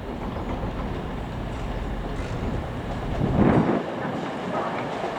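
A passing train, the Plymouth to Aberdeen service at York station: a steady low rumble and rolling rail noise that swells briefly near the end, with no talk.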